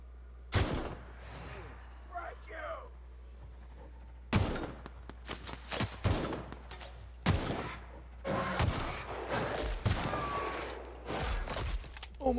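Loud bursts of rapid video game cannon fire in several volleys with short pauses between them, close and punchy, with no talking.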